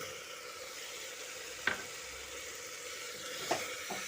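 Tomatoes sautéing with spiced potatoes in a pan, a steady low sizzle throughout, broken by two sharp scraping stirs of a spoon against the pan, no voices.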